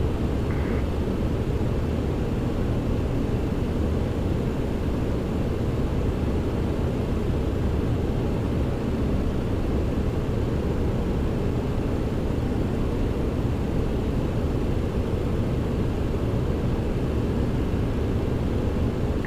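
Engine and cabin roar of a TFDi Design MD-11 airliner on a long-haul flight from Montreal to Rome in Microsoft Flight Simulator, a steady broadband rumble with no talk, holding constant for the whole stretch.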